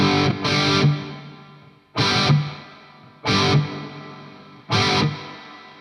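Electric guitar through a Mooer R7 pedal on plate reverb, four separate strummed chords, each struck loudly and then fading into a bright, slightly metallic reverb tail, alone and close.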